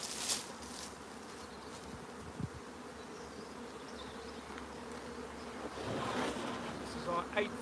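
Honeybees buzz around a hive during a nuc transfer, a steady close drone with a few bumps and handling knocks, growing slightly louder toward the end.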